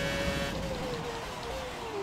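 A V10 Formula 1 engine in the racing video game F1 2017, a high, slightly falling whine sustained over a steady roar of the player's own car, as if passing nearby.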